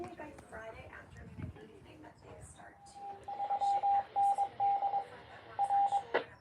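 Morse code test tones broadcast over a weather radio during a storm: a series of short and long steady beeps in an on-off rhythm, fairly loud and clear, following a stretch of background talk and radio noise.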